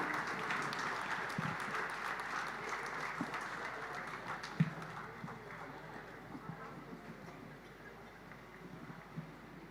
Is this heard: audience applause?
yes